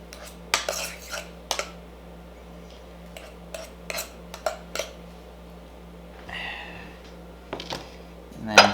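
A fork mashing potatoes in a pot, close scraping and clinking of metal against the pot in short irregular bursts over a low hum, with a squishy stir near the end.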